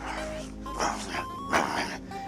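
A person voices a gnoll for a Dungeons & Dragons session, imitating barking and growling with a few rough yelping bursts at a moderate level, with no other talk.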